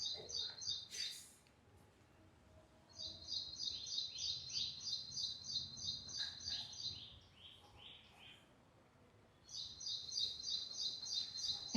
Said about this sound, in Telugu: ఈ పిట్ట బ్లాక్ కలర్లో చిన్నగా ఇంతే ఉంటుంది, భలే సౌండ్ చేస్తుంది.